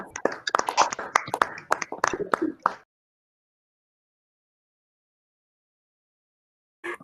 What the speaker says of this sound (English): Give a huge round of applause for Phoenix house